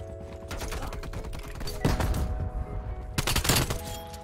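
Bursts of AK74u automatic fire in Call of Duty Cold War, a dense rattling volley at first, then two louder clusters of shots with a brief pause between them, set over a steady game background hum.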